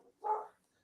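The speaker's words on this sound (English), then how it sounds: "And now I have barking dogs." A single short dog bark, fairly faint and isolated, heard indoors with no talking.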